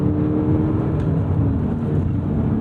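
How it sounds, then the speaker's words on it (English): A 2009 Audi R8 with a naturally aspirated V8, rear-biased drive and a six-speed gated manual, giving a steady, loud engine drone that holds an even pitch throughout with no talk. "naturally aspirated V8, sending most of the power to the rear wheels"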